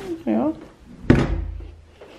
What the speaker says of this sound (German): Mal schauen, ob die Tür noch aufgeht.